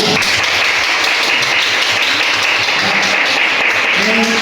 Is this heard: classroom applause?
yes